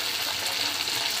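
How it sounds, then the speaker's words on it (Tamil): Large pieces of Chicken 65 frying in hot oil give a steady, close, bubbling sizzle that holds evenly throughout with no talking. "chicken நல்ல ஃப்ரை ஆயிட்டே இருக்கு"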